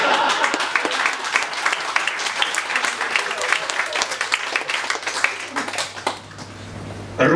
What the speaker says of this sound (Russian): Вы должны отбивать ваши аплодисменты, как железнодорожник, который стучит по составу